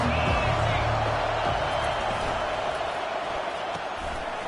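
Stadium crowd noise from the NCAA 25 college football video game, a dense, steady roar of fans under broadcast-style commentary, with some thuds early on.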